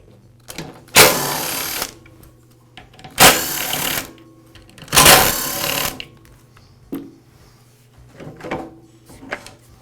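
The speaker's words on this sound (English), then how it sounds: "I'll go ahead and remove those screws now and pull the motor away from the saw." A power drill on a DeWALT chop saw, backing out the screws that hold the motor to the saw, three loud whirring bursts then shorter, quieter spins, close up and without talk.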